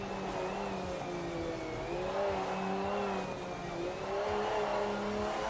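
Race car engine from the sim racing game Project Motor Racing, a steady sustained drone with clear harmonic tones rising and falling as revs shift, loud and continuous throughout with no talking.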